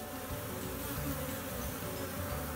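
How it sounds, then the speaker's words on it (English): Bees swarming around busy beehives in the English countryside beside fields of oilseed rape, a steady, dense buzz that holds at an even level throughout, with no talk over it. "These hives are busy."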